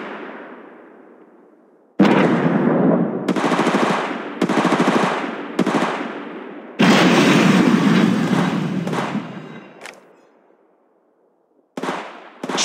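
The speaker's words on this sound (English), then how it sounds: "Contact. I'm taking the shot." Automatic weapon fire in the mobile game Apex Legends Mobile bursts out loud and close in several long sustained volleys separated by short gaps, with a decaying echo before the first burst and a brief pause near the end.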